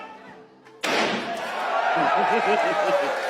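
A sledgehammer strikes a regular truck door once, giving a loud sudden metallic slam that rings on. Voices and laughter follow.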